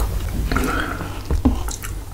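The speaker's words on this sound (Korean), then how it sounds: "그러면 오늘도 맛있게 먹어보도록 하겠습니다" Close, wet chewing and soft squishing of strawberry cream cake, with a few brief bites and mouth sounds across a short quiet stretch, no talking.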